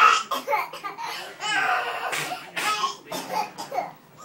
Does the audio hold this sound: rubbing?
no